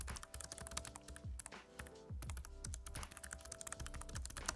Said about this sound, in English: because it's mechanical, it makes a bit of noise, albeit less than others that I've used